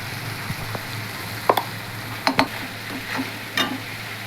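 Whole cumin, chilli, garlic and onion fry in hot oil with a constant close hiss and sizzle, broken by a few sharp clinks and spatters of a utensil against the pan.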